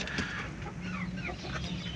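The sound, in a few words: hen clucking after laying an egg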